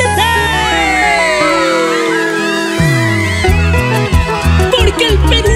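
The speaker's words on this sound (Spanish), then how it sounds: "Chicas, un grito bien fuerte." A concert crowd of girls screams and cheers loudly and continuously in a big swelling roar, with music and layered voices mixed in throughout.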